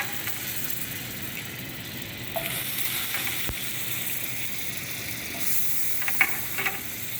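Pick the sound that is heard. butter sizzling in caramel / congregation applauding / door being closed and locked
butter sizzling in caramel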